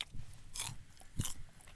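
Crisp crunching bites into a fresh Boeun jujube, two or three sharp, close snaps followed by soft chewing, quiet overall.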